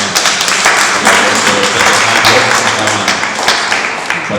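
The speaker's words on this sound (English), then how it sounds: "Let's clap our hands for the men." Applause from a crowd welcoming the men in the audience at a DAWR event, steady dense clapping over the whole stretch with faint voices mixed in.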